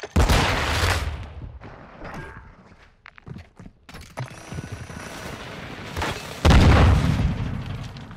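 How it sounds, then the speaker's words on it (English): A flash grenade going off in a shooter video game, heavy booming blasts at the start and near the end with scattered gunfire and footsteps in between, loud and close. "Throw a flash grenade!"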